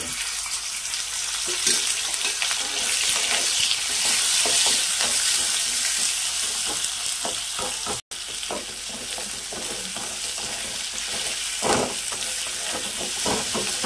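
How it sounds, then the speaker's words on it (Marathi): Steady sizzling and scraping as coconut roasts in oil in a hot pan, with stirring sounds throughout and no speech. "यामध्ये ना आपल्याला हे खोबरे ना लालसर भाजून घ्यायचंय।"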